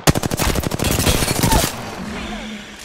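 Automatic weapon fire in Apex Legends ranked play: a loud, close, fast burst of evenly spaced shots lasting about a second and a half, then an abrupt stop into quieter game ambience.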